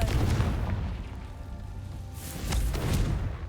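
Confringo fire spell blasts in the Hogwarts Legacy game, heard as deep rumbling booms: one at the start, a sustained low roar between, and a second loud burst near the end.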